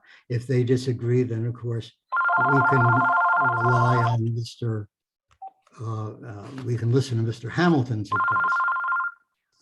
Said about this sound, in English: that's my phone and I wish it weren't doing that